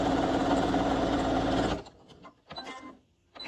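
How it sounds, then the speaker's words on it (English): A sewing machine runs a continuous top stitch around the edge of a homemade fabric face mask, a steady close whirring hum that stops abruptly, followed by a few faint handling clicks and rustles. "And then I just finished that top stitch all the way around."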